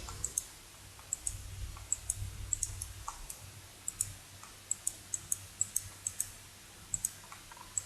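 A computer mouse clicks while a map is edited in JOSM, a run of small, crisp clicks, some single and some in quick pairs, close up over a faint low hum with no talking.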